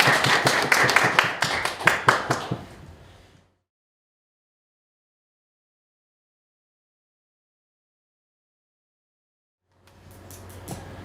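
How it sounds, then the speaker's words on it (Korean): An audience at a youth seminar claps for a presenter, a few seconds of brisk, close clapping that fades out, followed by a long silence and faint room sound returning at the end. "큰 박수 부탁드리겠습니다."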